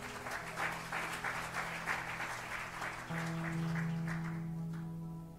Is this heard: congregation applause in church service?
yes